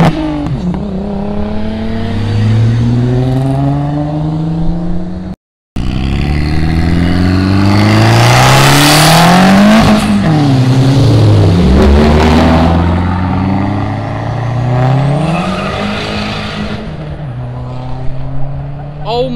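Cars revving hard and roaring past at a Cars & Coffee meet in Fairfield, Ohio, including a Nissan R35 GT-R and an Audi RS3; loud rising and falling engine notes sweep by one after another, with a brief cut partway through.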